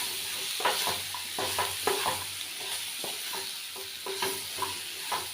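Mango pickle mixture being stirred steadily, with repeated scraping and clacking strokes of the spoon against the pot over a soft continuous background hiss.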